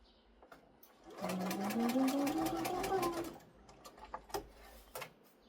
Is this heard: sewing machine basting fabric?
yes